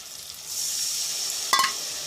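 Spices and ginger stir-fry in hot oil in a pan with a steady, bright sizzle, and a brief clatter of a spoon scraping partway through.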